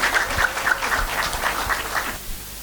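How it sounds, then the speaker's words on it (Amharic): Audience applause at a women's ministry gathering, a crowd clapping in a fairly steady patter that fades out near the end. "በደንብ አጨብጭቡ እንጂ እንዴት ነው?"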